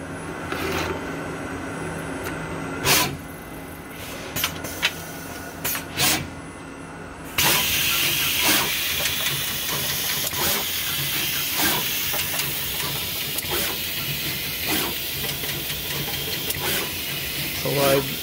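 A Universal Instruments GSM pick-and-place machine with Flexjet places parts on a circuit board, giving off a hissing pneumatic rush with clicks and sharp air bursts, turning louder and denser midway, while a person talks at the start.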